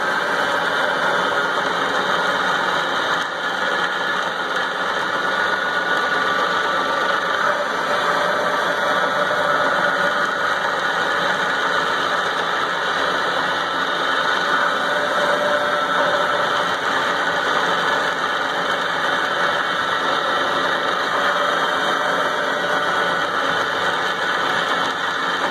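A Moore #3 jig borer cuts metal with a slight chatter. A steady, loud mechanical drone and rattle run unbroken throughout, with no voices.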